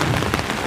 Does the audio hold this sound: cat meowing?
no